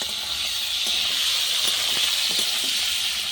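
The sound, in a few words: onion and potato frying in oil on clay stove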